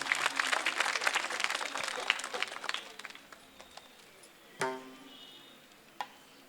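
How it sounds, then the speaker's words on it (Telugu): An audience at a Christian choral singing competition applauds to welcome guests, dense clapping that fades out over about three seconds, followed by a couple of isolated thumps. "గట్టిగా చప్పట్లు కొట్టి వారిని ఆహ్వానిద్దాం"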